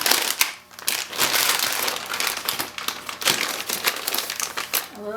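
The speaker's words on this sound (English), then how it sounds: "you can grab a little bit of stuffing" Soft polyester doll stuffing crinkles and rustles continuously up close as it is handled and poked into the back of a cloth doll's head, with brief pauses in the busy crackling.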